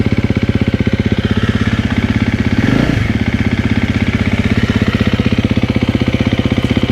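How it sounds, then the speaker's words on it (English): A 2024 KTM 350 XW-F dirt bike with a remapped ECU idles steadily with a deep, rapid exhaust pulse, close by, with a brief throttle blip midway before settling back to idle. "Exhaust sounds deeper, way less restrictive than it was before."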